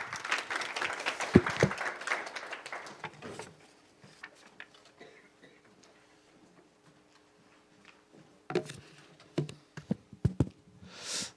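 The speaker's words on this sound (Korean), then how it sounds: "여러 가지 바쁘신 의정 활동 중에도 오늘 토론을 제안해 주신 강수훈 의원님께 다시 한번 큰 박수 부탁드리겠습니다" An audience at a Gwangju city council policy debate on franchise promotion applauds for the chairing council member. Dense, lively clapping fills the first few seconds, then fades to quiet with faint rustling, and scattered louder claps return near the end.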